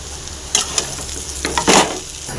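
Mashed potato seasoned with garam masala is stir-fried in a hot pan for egg cutlets, with a few scraping stirs and a louder scrape near the end over a low steady hiss.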